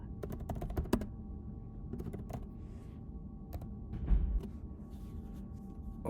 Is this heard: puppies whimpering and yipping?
no